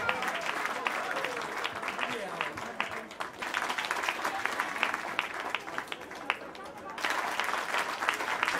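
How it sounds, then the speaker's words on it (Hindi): Steady crowd applause at the Gangasagar Mela award ceremony honouring Kolkata Sahu Samaj, a continuous moderately distant patter of many hands that dips briefly before rising again. "जोरदार ताली होनी चाहिए।"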